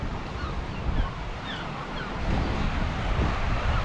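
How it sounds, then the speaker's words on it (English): Sea waves roll and crash against a cliff shore near a Scottish castle, a broad, steady rumble of surf mixed with wind buffeting the microphone, growing louder toward the end. "You would think if you got a wave coming the right direction you would get splashed."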